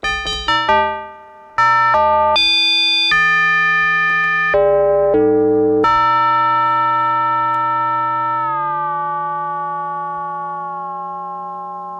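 Bright synthesized bell tones from an Arturia MicroFreak synthesizer strike in a quick sequence of changing pitches, then one long shimmering note rings out and slowly fades.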